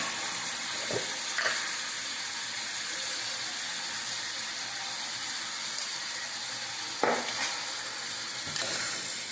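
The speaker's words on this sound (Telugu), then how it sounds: "పసుపు వేసి ఇదిగోండి ఈ విధంగా అయితే తిప్పి కాసేపు అయితే నూనెలో ఈ విధంగా ఉడకనిద్దామండి." Chicken cooking in hot oil for a tamarind-juice chicken curry, with turmeric added and stirred in; a steady broad sizzle runs throughout, broken by a few short scraping stirs, close and moderately loud.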